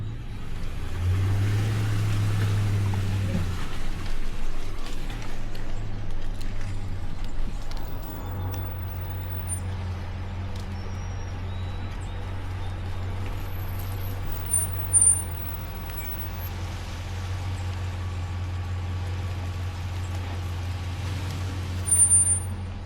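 A 4x4 truck eases along an off-road trail after a mud hole, its engine a steady low drone throughout, with a brief rev change early on and scattered bumps and rattles.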